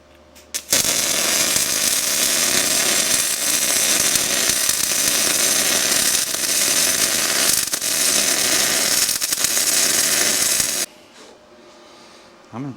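Continuous crackling and sizzling of welding with a Yeswelder DP200 welder, loud and close for about ten seconds before stopping abruptly, with a faint voice briefly after.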